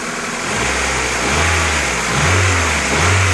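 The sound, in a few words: Honda CR-V B20 engine running after valve adjustment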